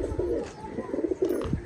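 Pigeons, including Madrasi, Kalsira and Giribaz breeds, coo in soft, throaty, repeated bursts close by on a rooftop, overlapping one another with a little background noise.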